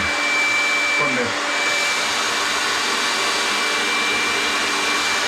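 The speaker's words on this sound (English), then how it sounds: "start out with this blow dryer" A blow dryer on high heat runs over a coarse beard being straightened, a loud, steady close-up roar with a constant whine, unbroken throughout and with no speech.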